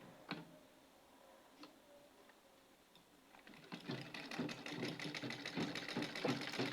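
A sewing machine stitches fabric for a rose-style sleeve, starting with a few isolated clicks, then running in a fast, steady mechanical tapping rhythm that grows louder and continues to the end, close up with no speech.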